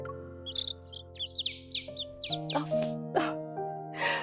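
Birds chirp and tweet in a string of short, bright calls over a soft sustained music bed in the romance game Love and Deepspace, the chirps coming quickly one after another and growing busier toward the end.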